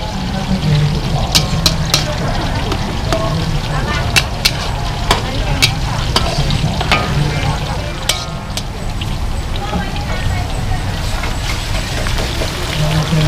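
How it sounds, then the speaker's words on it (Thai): Glass noodles and pickled cabbage stir-fry in two pans at a busy market curry stall, with a steady loud sizzle and frequent scraping clinks of spatulas throughout, plus faint background chatter. "ผัดวุ้นเส้นกับผัดผักกาดดองครับ"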